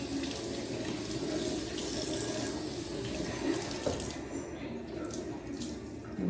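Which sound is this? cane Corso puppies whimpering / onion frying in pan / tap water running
tap water running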